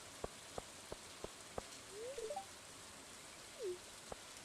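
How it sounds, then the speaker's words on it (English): Steady light rain falls outdoors, with isolated drops tapping sharply at irregular intervals over a soft hiss and a few bird chirps in between, all fairly faint. "The flowers do love this rain."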